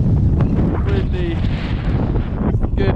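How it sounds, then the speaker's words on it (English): Strong wind buffets the microphone in a loud, continuous roar during rain, with faint voices and a few brief squeaks underneath. "It's raining. Yeah. It's windy."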